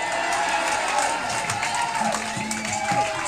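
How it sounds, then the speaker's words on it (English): A crowd at a concert applauds and cheers, sustained clapping and whoops with faint shouts mixed in, fairly close and continuous throughout. "Give him a big round of applause."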